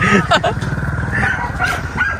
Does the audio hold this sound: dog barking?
yes